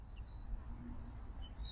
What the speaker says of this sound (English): Lots of birds, so special.